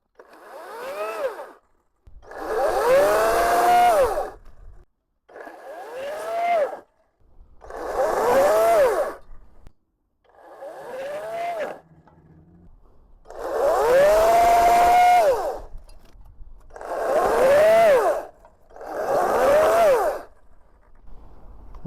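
A 40V battery chainsaw cuts through branches in about eight separate bursts, its motor whining up in pitch as each cut begins, with short pauses between.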